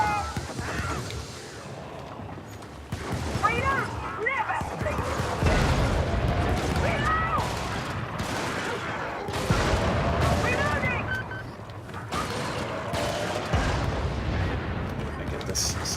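Heavy booming fire from a video game battle, repeated loud blasts and rumbling impacts spread across the stretch, with someone talking over the din.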